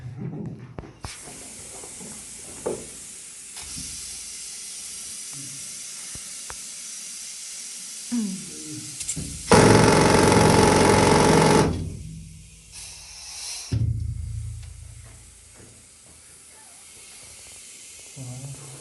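A pneumatic rock drill roars in a loud hissing burst for a couple of seconds inside an active gold mine, set among quieter clanks, hisses and intermittent mechanical noise.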